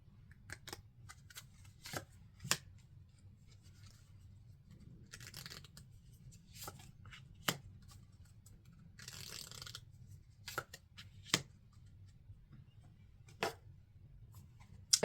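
Oracle cards being shuffled and drawn, giving soft papery riffles and flicks with several sharp snaps scattered across a quiet room, fairly faint and close.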